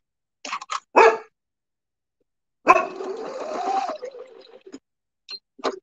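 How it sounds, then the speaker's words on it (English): A dog barks at her own reflection in a mirror, giving a few sharp close barks, then a longer growling bark run, with scattered short yips afterward. "she's barking at herself in the mirror."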